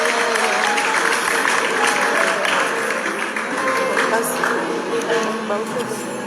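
A congregation at a church celebration marking a 25th anniversary claps and cheers. The applause is loud and continuous with crowd voices mixed in, easing slightly toward the end.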